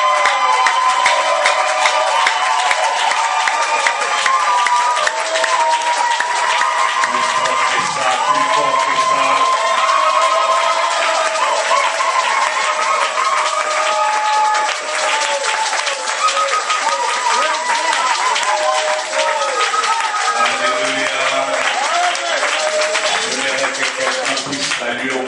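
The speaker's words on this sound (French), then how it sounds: "Est-ce qu'on peut donner à Dieu une offrande d'applaudissements" Sustained applause from a crowd, steady and loud throughout, with music or voices mixed in underneath.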